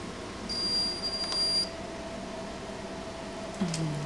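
A multimeter gives a steady high continuity beep for about a second while testing an omni antenna connection, against a quiet room hum.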